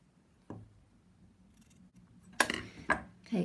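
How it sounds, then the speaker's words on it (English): Scissors snip away excess fabric while a bias binding is fitted. Three or four separate sharp cuts sound close by in a quiet room, and nobody talks. "Cut away the excess fabric."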